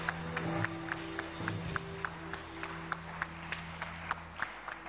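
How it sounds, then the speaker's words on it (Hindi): A studio audience applauds on a live Pakistani talk show, a faint, even patter of many hands with sharper individual claps standing out, lasting about five seconds over a steady low background hum. "और इनकी हिम्मत के लिए तालियां बज सकती हैं"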